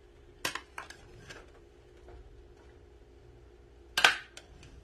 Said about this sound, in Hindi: तो अब हमने सारे इसको मिक्स कर देना है, ये देखिए अच्छे से हमने मिक्स कर देना है चावलों के वेजिटेबल के साथ।